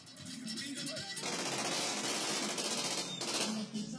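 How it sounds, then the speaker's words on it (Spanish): Dense rapid bursts of gunshots and fireworks at a funeral, loud and continuous crackling volleys with no pause, heard from a moderate distance. "crimen de Diego Vinimelis y Enrique Moyano, sus amigos los despidieron entre fuegos artificiales y balazos."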